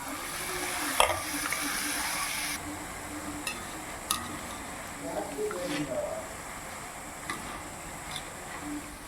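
Boondi batter for laddu frying in hot oil, a steady close sizzle with light scraping and clicking of a ladle, while someone talks quietly over it.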